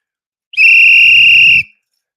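A person whistles in imitation of a coach's whistle: one loud, steady, shrill blast lasting about a second, heard alone.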